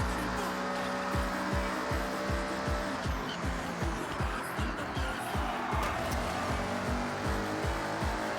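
An Audi racing in the Forza video game, its engine revving hard through rapid gear changes with repeated rising sweeps, tire noise and a busy race mix, loud and close throughout.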